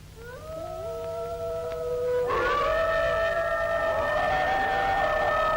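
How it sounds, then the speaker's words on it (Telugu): Jackals howl at night near a fort in several long, wavering, overlapping calls that swell into a loud chorus partway through, over a low steady hum. "నక్కలు కూస్తున్నట్టున్నాయి. కోట దగ్గరకు వచ్చి నక్కలు కూయడం ఏమిటి?"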